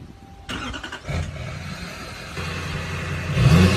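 A truck engine cranks over and fires, then revs harder and louder, ending in a loud roar with a deep rumble.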